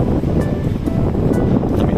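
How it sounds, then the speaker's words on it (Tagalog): Strong wind blows at a seashore, a loud, heavy rumbling roar of gusts buffeting the microphone, with washing surf faintly mixed underneath. "medyo malakas lang po ang hangin"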